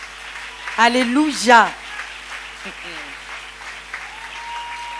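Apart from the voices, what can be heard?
congregation applauding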